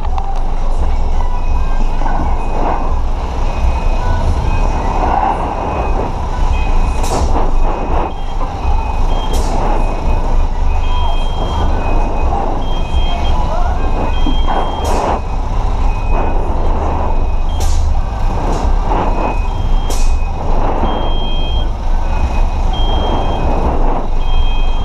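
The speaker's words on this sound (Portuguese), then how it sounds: "Vocês perceberam que esse carro tava apitando aqui, né?" Inside a bus cab, a temperature warning beeps in short repeated electronic tones over a constant loud diesel engine rumble, with occasional sharp hisses from the air brakes.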